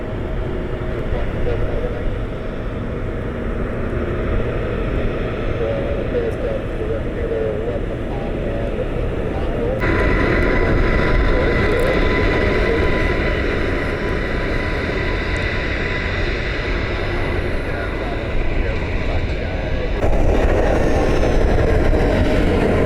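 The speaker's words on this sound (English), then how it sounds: "This is that Airshare Challenger heading to Kansas City." Airshare Challenger business jet passing overhead, a steady loud roaring jet rumble that swells partway through and holds, heard over broadband noise at a distance.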